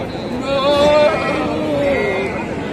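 Sheep and rams bleating at a busy village animal market during the Dasara season, a few drawn-out wavering calls standing out over steady crowd chatter and bargaining voices nearby.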